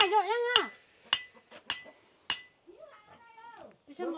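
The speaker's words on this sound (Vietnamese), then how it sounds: "ông thì hiện tại là đang đóng đinh vào một lốp xe một chút của bác ạ" A hammer drives nails into a tire on a home farm, giving four sharp, ringing metallic strikes spaced about half a second apart. A child's high, wavering voice and other voices are heard between the blows.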